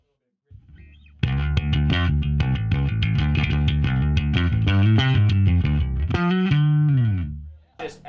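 An electric bass runs through a distortion pedal set about halfway, giving a gritty, buzzing tone. After a soft opening, a steady run of loud, close notes plays alone before fading at the end.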